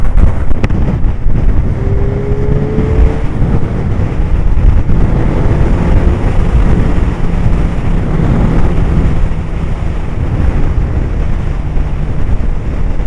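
A Suzuki GSXR Hayabusa Gen2 motorcycle engine drones steadily while riding, heavily buried under constant loud wind buffeting on the microphone, with a faint tonal whine rising briefly near the start.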